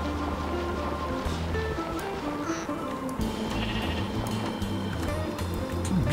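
Sheep bleating in Minecraft, a steady in-game bleat over a dense, continuous game soundscape with music, loud and close throughout.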